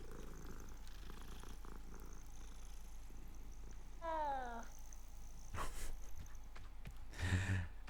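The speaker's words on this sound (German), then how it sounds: "ja, doch, das ist der Katzensound, den wir nehmen. Den nehmen wir ins Spiel rein." A cat in the video game Hogwarts Legacy gives a short rising meow followed by a soft purr and a brief snort, quiet over a faint background hum with no talking.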